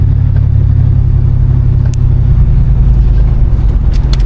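A vehicle towing a camper trailer with repaired suspension, a new axle and a replaced broken leaf spring pulls out onto the road. Loud continuous engine rumble and road noise sit close, with a few brief knocks.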